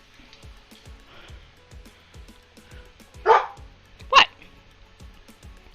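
A dog indoors gives a low soft grumbling growl, then two sharp loud barks a second apart, with a brief spoken word in between.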